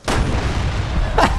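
Bomb blasts in Resident Evil Revelations 2, a heavy boom at the start rolling into a low rumble, then a second sharp, loud bang just before the end.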